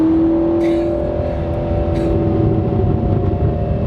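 A 2019 Corvette ZR1 pulls hard in second gear from a roll, its engine note loud, close and steadily rising as it accelerates, with no talking over it.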